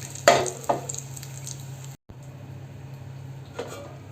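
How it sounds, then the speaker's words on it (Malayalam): Hot chili-powder tempering hits a pumpkin curry with a sharp sizzle and splash, followed by a fainter crackle and a brief clink of a pan, with no talking. "അതുകൂടി ചേർത്തതിന് ശേഷം നമുക്കിത് കറിയിലേക്ക് ഒഴിച്ചു കൊടുക്കാം"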